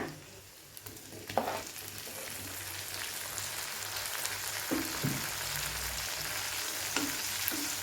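Chopped tomatoes hitting sautéed onions in a pan for turkey berry pachadi set off a steady, close sizzle of frying, broken by a few sharp stirring scrapes and clatters, with no talking.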